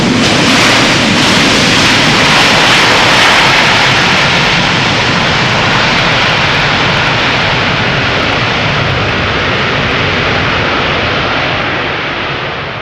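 An airliner lands on Schiphol's Polderbaan runway with thrust reversers deployed, giving a loud, steady, broadband jet roar that holds for the whole stretch and eases off slightly at the end.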